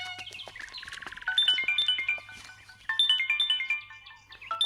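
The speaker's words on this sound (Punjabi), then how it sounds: "ਤੇਰੀ ਭਾਬੀ ਦਾ ਫੋਨ ਆਇਆ?" A mobile phone ringtone playing a bright, repeating electronic melody of quick chiming notes, close and fairly loud, restarting its phrase twice over a low background hum.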